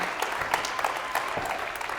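An audience at a live talk on financial mistakes claps steadily in sparse, scattered applause, with faint crowd murmur.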